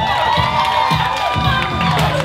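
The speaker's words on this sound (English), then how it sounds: "Come on, ladies, give them a hand clap" A wedding crowd cheers and whoops loudly and continuously in a lively room, with excited voices rising in waves and little distinct clapping.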